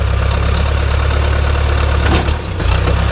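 Backhoe engine in the video game Junk Explorer idling with a loud, throbbing low diesel chug, steady and close, with a brief dip and surge in the middle.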